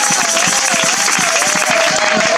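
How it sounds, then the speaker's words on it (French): A church congregation applauding at a mountain prayer service, a dense, steady wash of clapping with a voice faintly audible within it. "Est-ce qu'on peut applaudir pour le roi des rois?"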